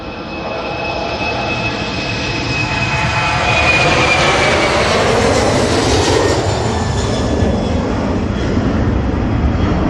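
A Qatar Airways Boeing 787 takes off close by with a loud, sustained jet roar that swells and shifts in pitch as the aircraft passes, dominating the whole stretch.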